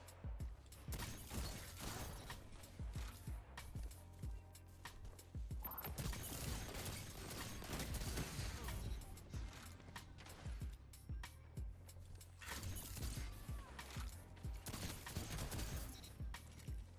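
Spare Rations, a 140 hand cannon in Destiny 2, fires repeatedly in sharp, punchy reports with mechanical clicks, loud and dense throughout amid other in-game combat noise.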